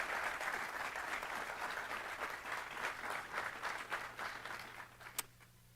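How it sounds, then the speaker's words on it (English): Audience at a high school distinguished student awards ceremony gives a steady, dense round of applause, heard from a distance and fairly quiet. It thins out and ends abruptly with a final sharp sound. "I would like to give all our students and teachers one more round of applause."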